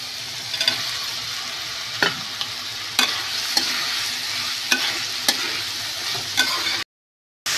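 Spinach and fried eggplant being stirred together in a pan with a spatula, steady frying sizzle underneath and a run of sharp utensil scrapes and taps at irregular intervals, close and moderately loud, cutting off abruptly near the end.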